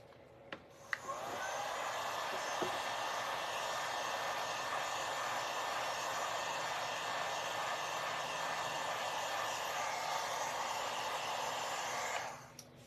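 A handheld dryer blows across a freshly painted DIY farmhouse porch leaner, a steady airy whir starting after a click and running evenly for about eleven seconds before cutting off.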